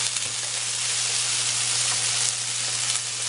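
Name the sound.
beans sizzling in a pan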